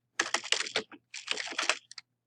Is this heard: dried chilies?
no